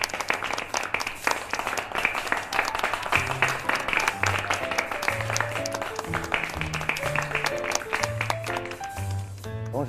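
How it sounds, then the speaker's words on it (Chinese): Office staff applaud in a company meeting room, a steady dense clapping from a group, accompanied throughout by background music. "陈总和所有的员工，你们都辛苦了，我们掌声致意。"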